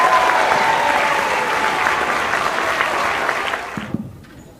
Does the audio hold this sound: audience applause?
yes